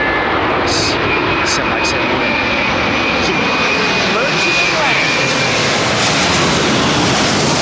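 A large jet airliner, an Airbus A380 or Boeing 787, roars steadily and loudly throughout its landing, a broad continuous engine rush with a thin whine riding on top, while people talk over it.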